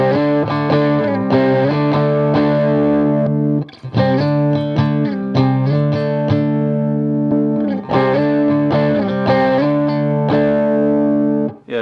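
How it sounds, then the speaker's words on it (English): Electric guitar played through a Behringer TO800 Vintage Tube Overdrive pedal set about halfway, mildly distorted chords strummed in repeating phrases with brief gaps, loud and warm with no talking. "adds a little bit of the tube distortion, and just makes it kind of a chunkier, nicer sound"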